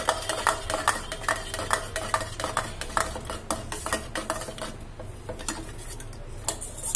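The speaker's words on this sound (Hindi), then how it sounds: "ये रायते का मसाला डाल देंगे, इसको अच्छे से मिक्स कर लेंगे।" A spoon stirs coriander raita with raita masala in a bowl, giving a steady run of light clinks and scrapes against the bowl with no talking.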